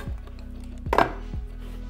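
A knife chops food into thin slices on a cutting board, three distinct knocks spaced unevenly, with a brighter clatter on the middle stroke over a low steady hum.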